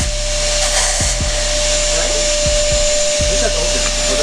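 Walnut shell media blasting carbon off the intake valves of a Ford Focus ST, a constant loud hissing roar of air and grit with a steady whine and intermittent knocks and thumps.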